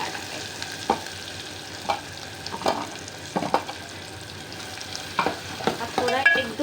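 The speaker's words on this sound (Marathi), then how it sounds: "हा थोडा 1-2 मिनिटाचा भाजून घ्यायचा. हा काय मस्त वास येतोय मसाला भाजताना." Masala roasting in hot oil with mustard seeds and cumin, a constant close sizzle punctuated by regular scraping strokes of a spoon against the pan, growing busier toward the end.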